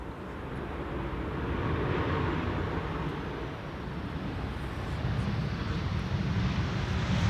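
A Transavia Retro airliner arriving at Schiphol Airport, a broad steady jet roar that swells and holds at moderate distance for several seconds, with no voices over it.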